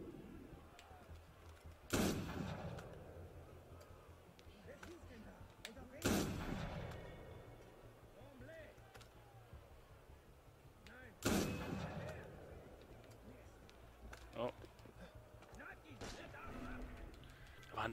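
Gunfire in the video game Assassin's Creed Unity: three loud, sharp shots spaced several seconds apart over a busy background ambience, with faint talk beneath.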